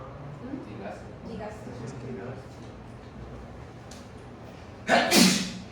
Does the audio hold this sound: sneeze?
yes